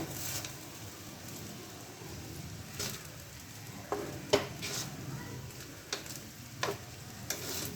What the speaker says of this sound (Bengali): এটা দিয়ে আবারও আলতো হাতে ভালো করে নেড়ে নেব